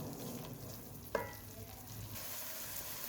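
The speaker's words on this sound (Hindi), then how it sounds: "और अब हम इसको मसालों के साथ भूनेंगे।" Masala spices roast in a pan with a low, steady sizzle and one sharp utensil scrape against the pan, quiet and close.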